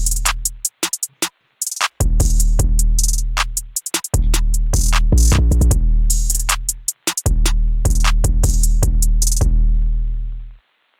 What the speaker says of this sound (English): So basically all the drums sound like this.